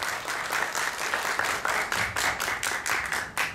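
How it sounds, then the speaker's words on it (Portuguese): Strong, sustained applause from an audience honoring Deputy Gabrilli, dense clapping continuing steadily throughout at fairly close range with no talk over it. "Um aplauso, gente, forte para a deputada Gabrilli."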